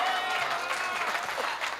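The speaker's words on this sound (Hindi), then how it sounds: "आपकी तालियों में जोर होना चाहिए।" Audience applause at a Hindi kavi sammelan and mushaira in Jhinjhana, a dense steady wash of clapping sustained through the short stretch, with voices faintly mixed in.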